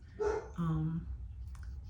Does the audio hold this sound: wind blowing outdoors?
no